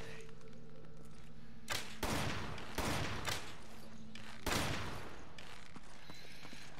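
Gunshots in Resident Evil 5, with several loud, close blasts spaced a second or so apart, each trailing off in a rough decay over a steady background hum.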